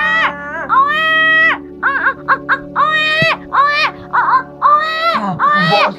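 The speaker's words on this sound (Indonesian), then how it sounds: "Mbok Srini sangat bahagia mendengar suara tangisan bayi itu." A baby cries in a fairy-tale sound effect, with loud, close wailing sobs in rising and falling bursts, broken by short breathy gaps, over a faint low hum.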